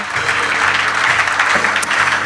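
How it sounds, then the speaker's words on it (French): A burst of enthusiastic clapping from a church congregation during worship, dense and continuous throughout, loud and close. "on va applaudir le Seigneur bien fort"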